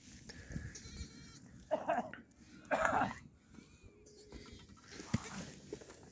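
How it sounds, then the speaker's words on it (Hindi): Goats bleat at a nomadic shepherd's night camp in India, with a few loud, wavering calls in separate bursts and a cough-like bleat, mixed with people talking nearby. "बकरी टिक रही है"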